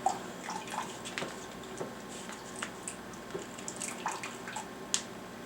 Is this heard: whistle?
no